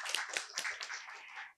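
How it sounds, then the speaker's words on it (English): Audience applause at a diplomatic forum roundtable in Jeju, a brief, dense burst of clapping that stays fairly steady before stopping abruptly. "A big round of applause"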